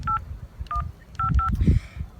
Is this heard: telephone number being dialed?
yes